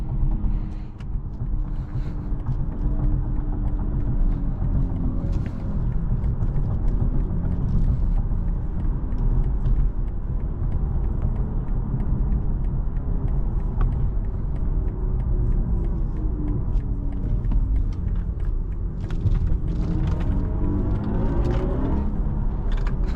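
A 2022 BMW i4 M50 electric car driving at night gives a steady low rumble with road noise and a rising whine that sweeps upward in pitch near the end as it accelerates.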